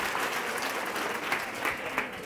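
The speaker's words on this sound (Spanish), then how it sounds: "Un aplauso, gracias." A lecture audience of teachers gives a round of applause after a breathing exercise, with dense, sustained clapping from a crowd and a few louder claps standing out.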